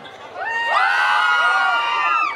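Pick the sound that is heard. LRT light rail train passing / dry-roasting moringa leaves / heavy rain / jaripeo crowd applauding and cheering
jaripeo crowd applauding and cheering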